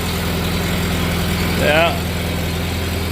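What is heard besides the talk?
Farmall tractor engine running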